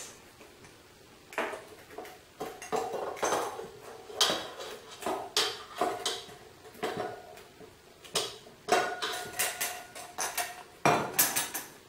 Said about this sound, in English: blend in 1¾ cups of mashed ripe bananas